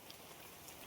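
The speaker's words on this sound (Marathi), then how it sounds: "आज पाऊस आला आणि चांगलाच पाऊस झालेला आहे." Rain falling steadily in heavy monsoon weather, a soft continuous patter of drops on surfaces, quiet and even throughout, with no voices.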